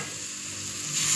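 Besan batter hits hot oil in a pan with a steady, close hiss of sizzling that swells slightly toward the end.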